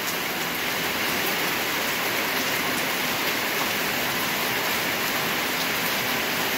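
Heavy rain pouring steadily since the early morning in a rural area, a dense, constant roar of falling water with no breaks and no voices.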